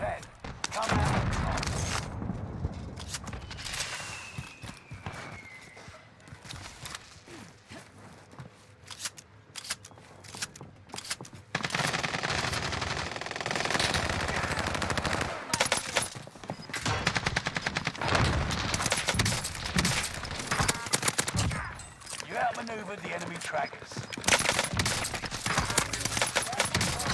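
Bursts of automatic gunfire crackle through a Call of Duty Warzone match, rapid volleys coming in clusters with brief gaps, loud and close, joined by other game effects.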